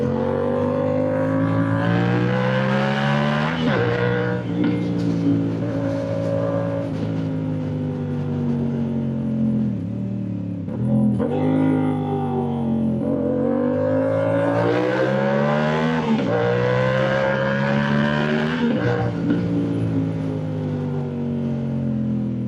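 A CFMoto 450SR motorcycle fitted with a full exhaust revs hard and close, its pitch repeatedly climbing and dropping in long waves for over twenty seconds, with sharp crackling pops between throttle blips.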